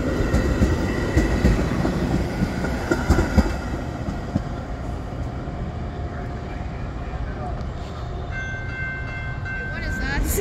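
A train rumbles steadily past at close range with rattling and clattering, voices faintly underneath, and a tonal horn-like whine near the end.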